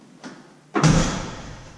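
A Ford F100 pickup truck's door, fitted with power windows, swings shut with one solid, heavy thump after a faint lighter click, heard close and alone.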